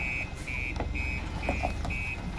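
A vehicle reversing into a parking spot, its beeper sounding five evenly spaced electronic tones over a low engine rumble, with faint background noise and no talk.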